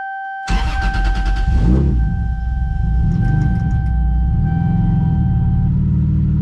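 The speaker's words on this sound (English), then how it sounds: "It's actually coming out of the exhaust." A Lexus SC300 engine with a custom exhaust starts with a loud crank and bark, then settles into a throaty, rumbling idle through the exhaust, close and loud.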